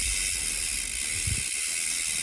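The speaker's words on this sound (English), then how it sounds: "Now we go here and really spray into the chain." A steady hiss of aerosol cleaner sprayed onto a waxed bike chain runs without a break, close by, with faint mechanical rattling underneath.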